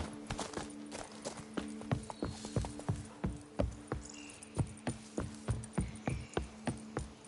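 Roach, a horse in The Witcher 3 video game, gallops with quick rhythmic clip-clopping hoofbeats that stay close and steady throughout.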